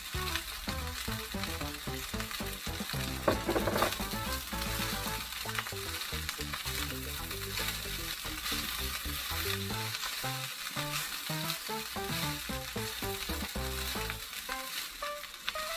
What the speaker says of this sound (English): I'm gonna let this fry on very high heat.